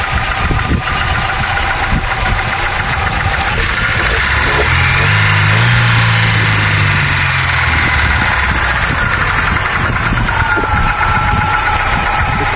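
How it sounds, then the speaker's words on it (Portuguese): A car engine, on a used car for sale in Portugal, runs loudly and close, with a rise in revs through the middle before settling back to a steady idle, with no talking. "Vou acelerar ele para você ver."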